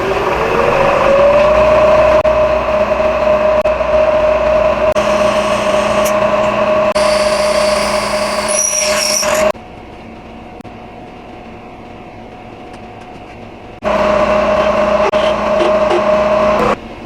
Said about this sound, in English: I'm going to go ahead and drill holes and tap these.